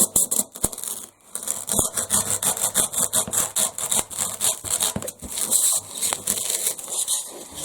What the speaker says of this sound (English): before I start to saw this